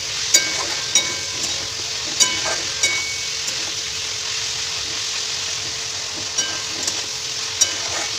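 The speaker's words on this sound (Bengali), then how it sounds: "গরম হয়ে গেছে, আমি চিকেনগুলো দিয়ে দেবো" Chicken pieces, turmeric added, frying in hot oil in a wok, a loud continuous sizzle and crackle up close with periodic sharp clinks of stirring, no voices.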